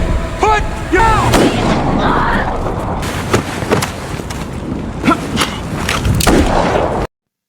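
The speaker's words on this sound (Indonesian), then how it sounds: "si Seri pun langsung menembak si Derby" A sheriff fires his gun in a film scene, several heavy, booming gunshots ringing out across a dense, noisy background, with short shouted exclamations between the blasts.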